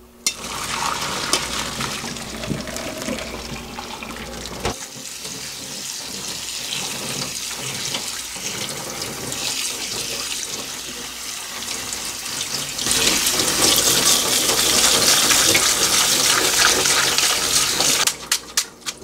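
Tap water runs steadily into a sink while cooked noodles are rinsed underneath, with splashing that grows louder and fuller partway through.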